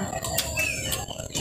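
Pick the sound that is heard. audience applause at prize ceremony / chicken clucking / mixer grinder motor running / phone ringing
chicken clucking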